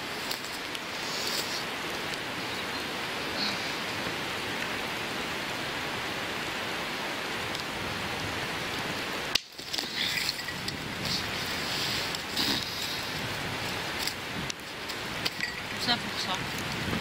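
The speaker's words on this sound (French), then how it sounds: "En plus, il se met à pleuvoir." Rain falling on a bivouac camp in the mountains with lingering snow, a steady, dense patter surrounding the microphone, briefly interrupted by a sharp knock before the downpour continues.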